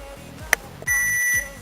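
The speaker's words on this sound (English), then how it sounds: "once the timer goes off" While cookies bake, a kitchen timer goes off nearby: a sharp beep, then a loud, sustained electronic tone lasting about half a second over a low background hum.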